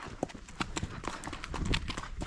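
A young foal out on its first trail ride, hooves clip-clopping in a steady walking rhythm, fairly quiet and close, with faint voices in the background.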